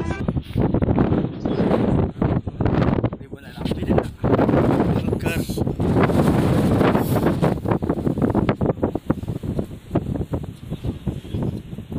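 Strong wind gusts roar across the microphone on a mountain at Bromo, loud and buffeting with shifting surges, while a person talks over it.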